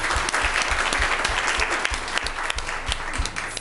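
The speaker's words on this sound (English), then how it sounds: "round of applause for the kids" An audience at an education advisory board meeting claps for the kids who just spoke: steady, fairly loud applause with many overlapping hands, no talking.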